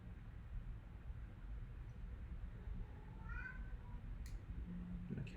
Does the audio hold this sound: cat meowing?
yes